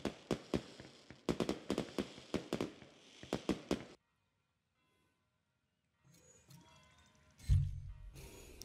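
In a VR video game, a rapid burst of firecracker pops crackles for several seconds, then stops; after a pause comes a low rumble and a heavier thump.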